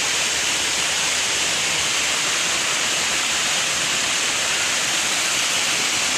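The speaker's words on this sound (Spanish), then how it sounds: "Aquí está la cascada." Waterfall on a trail, heard as a steady, dense rushing roar of falling water that holds even and loud throughout, with no voices.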